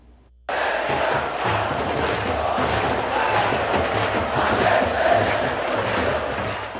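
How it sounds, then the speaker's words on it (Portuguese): ABC football supporters roar in the Frasqueirão stadium: after a brief quiet moment, a massive, sustained crowd din of chanting and cheering kicks in and holds loud and steady to the end. "A torcida do ABC fez bonita festa para impulsionar seu time a mais uma vitória"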